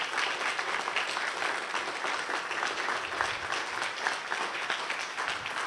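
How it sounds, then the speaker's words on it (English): Applause at a community building lobby press conference, a sustained wash of many hands clapping, even and unbroken, fairly close and without talk over it. "I ask this community to give him a round of applause"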